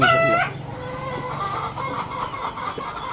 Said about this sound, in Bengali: ওই মুরগি তোমার দেখে খালি হক হক হক হক করতে